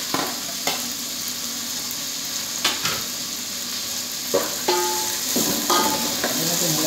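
Tomatoes drop into a pan of frying ginger while cooking a clam dish, giving a loud steady sizzle with scattered stirring scrapes and small clinks throughout.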